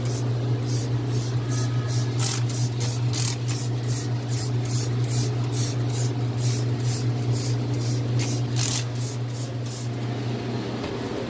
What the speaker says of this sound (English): What you're going to do is just spray it a little over everywhere,